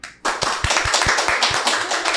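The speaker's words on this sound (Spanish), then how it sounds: "Una bienvenida y un aplauso bien fuerte a Fray C." Studio audience on a podcast set applauds to welcome a guest, a sudden burst of dense clapping after a brief quiet start, steady and fairly loud throughout.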